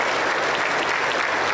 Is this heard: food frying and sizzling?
no